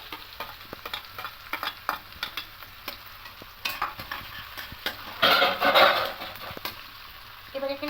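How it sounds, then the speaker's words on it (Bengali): Chopped green chili and onion fry in a pan for a bread recipe, with a soft continuous sizzle broken by the scrape and clack of a stirring utensil, which briefly grows louder partway through. "এটা একটু ভেজে নেবো হালকা করে লাল লাল করে"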